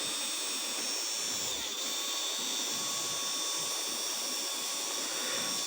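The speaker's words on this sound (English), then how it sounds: "Here you can see that this power of this drill machine." A 12V DC 775 motor drill machine runs steadily at high speed, giving a continuous loud whine with a brief dip in the middle, no voices present.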